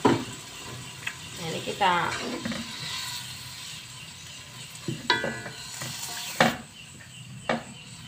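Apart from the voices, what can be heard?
water added to frying spicy chicken wings, sizzling and stirring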